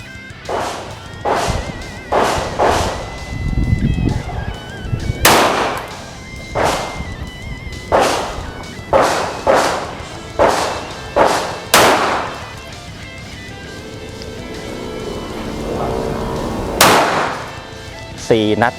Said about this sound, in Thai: พร้อมแล้วเริ่มยิง เข้า X เลยนะครับ นัดที่ 14 นัดนะ